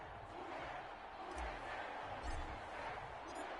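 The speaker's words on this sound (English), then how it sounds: "This crowd is ready as their guys get set to match up between the Dallas Cowboys and the New Orleans Saints." Stadium crowd noise in the Madden 21 football game ahead of a Dallas Cowboys versus New Orleans Saints matchup, a steady broad roar with low rumbling swells, moderately loud and continuous with no clear talk.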